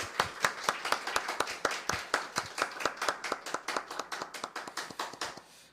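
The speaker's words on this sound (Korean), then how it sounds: "우리 다시 한번 감사의 박수를 올려드리시겠습니다" Church congregation clapping together in thanks after a worship service, a rhythmic run of sharp, evenly spaced claps in unison that keeps a steady beat and fades slightly toward the end, with no speech.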